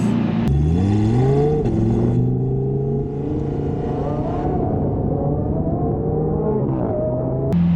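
A car accelerates hard from a standstill, its engine rising in pitch through several quick gear changes, loud and close as if heard from inside the cabin, with no talk over it.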